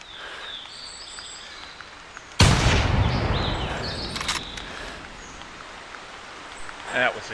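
A single sharp rifle shot in the hunting game The Hunter, a sudden loud crack followed by a long rolling echo that fades over a few seconds against faint outdoor ambience.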